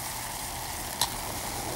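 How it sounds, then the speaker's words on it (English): Liquid nitrogen boils around a dipped metal coil, a continuous fizzing, sizzling hiss with one brief louder crackle midway, close and steady. "Ooh, it's bubbling. Yes, because you're actually boiling it."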